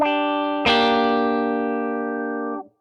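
Electric guitar through an Electro Harmonix Q-Tron+ envelope filter in high mode, a held note followed by one fresh strummed chord with a bright, glassy filtered attack that rings out and decays over about two seconds.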